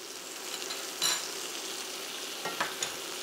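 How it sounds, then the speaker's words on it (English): Stirring beef bourguignon ingredients with tomato puree in a hot pan, a steady soft sizzle under a few distinct scraping stirs of the spoon, close and moderately loud, with no talking. "and mix it all together"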